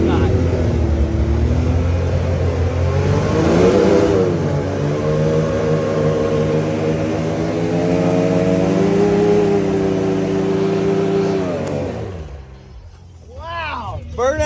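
Can-Am side-by-side doing a burnout on a steep woodland trail, its engine held at a loud, sustained high rev for around twelve seconds before dropping off abruptly.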